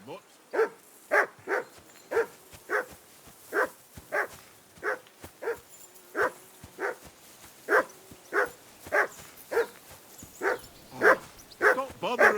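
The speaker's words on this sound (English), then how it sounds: "Do something with that mutt, Henry!" A dog barks in the video game Kingdom Come Deliverance 2, giving about twenty evenly spaced woofs that carry on steadily, with game characters talking over it.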